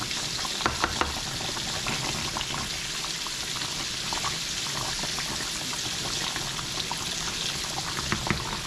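Fish cooks in a pot of Guyanese metemgee with plantains and duffs, making a continuous dense bubbling sizzle close by, steady and fairly loud throughout, with no voices over it.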